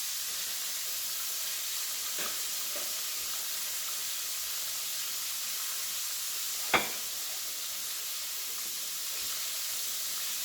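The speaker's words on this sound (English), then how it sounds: "So you can hear that beef is really cooking away." Breaded chicken fried steak, dipped in egg, sizzles steadily in a frying pan with a continuous soft hiss, broken by a few faint clicks and one sharp tap.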